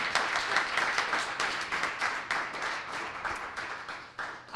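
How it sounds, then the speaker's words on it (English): Audience at a mental health town hall applauds the speakers, steady dense clapping from many hands filling the room, loud and continuous with no talk over it. "I want to give our speakers another round of applause."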